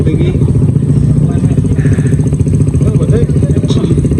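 A motorcycle engine rumbles steadily up close while riding a rocky road, with clattering and bumping over the rough ground and some voices mixed in.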